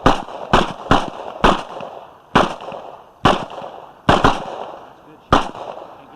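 Gunshots at a shooting range, eight sharp loud reports fired in an irregular sequence with brief ringing decays between them.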